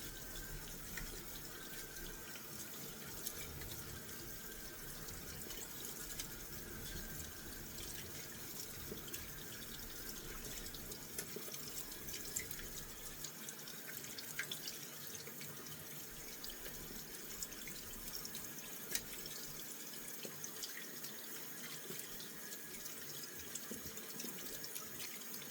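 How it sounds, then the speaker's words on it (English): A faucet runs steadily into a bathroom sink while hands are rinsed, a soft continuous hiss of water with faint splashing, quiet and with nobody speaking. "I'm just gonna rinse this off now."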